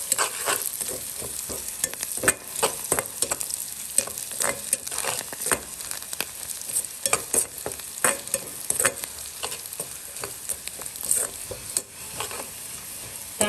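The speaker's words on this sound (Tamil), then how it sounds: "ஒண்டா போட்டு வதக்கு." Onion and coconut sautéing in a frying pan, a steady near sizzle broken by frequent scraping stir strokes throughout, with no talk.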